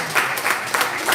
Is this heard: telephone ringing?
no